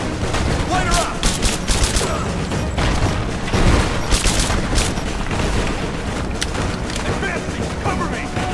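Sustained bursts of gunfire in the video game Rise of the Tomb Raider, loud, dense and continuous with repeated sharp cracks and a few heavier booms, under game soldiers' shouted callouts.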